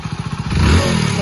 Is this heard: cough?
no